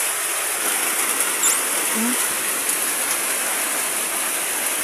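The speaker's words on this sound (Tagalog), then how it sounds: "hindi talaga humihinto ang ulan at hangin" Heavy rain and wind during a storm, heard from inside a soaked house: a constant loud hiss of rain and gusting air, with a faint brief tone partway through.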